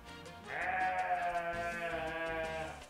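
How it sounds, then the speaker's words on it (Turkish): A goat bleats in Antakya, one long wavering cry that rises and holds for about two seconds before fading, close and clear over quiet background murmur. "keçimiz de orada duyuyorsunuz"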